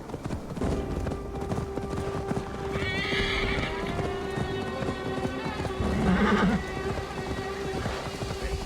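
A horse gallops with rapid drumming hooves and lets out loud whinnies, set against busy battle-scene background noise, with some voices mixed in.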